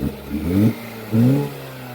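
A Jeep Renegade engine, after a motor mount replacement, revs up twice, rising and falling in pitch, with a short lull between the bursts.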